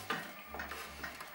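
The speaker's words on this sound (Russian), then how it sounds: "в разогретую сковороду наливаем немного растительного масла, буквально 2-3 столовые ложки. И обжариваем" Soft sizzling and stirring of vegetables in a few spoonfuls of vegetable oil in a pan over medium heat, with a few scraping strokes spaced about half a second apart, close and quiet, no voices.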